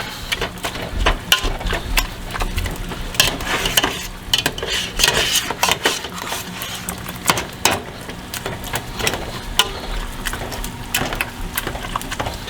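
Repeated soft thuds and scraping clatter of a masher working through potatoes in a pot, steady and close, with kitchen clinks.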